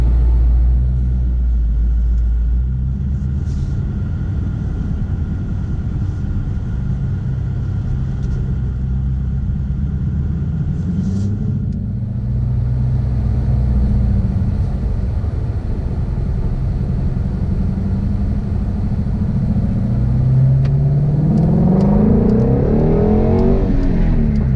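A 2017 Ford Shelby GT350 exhaust heard from inside while driving, a loud deep rumble that drones steadily with gear-linked swells and rises into a strong revving surge toward the end, with no talking.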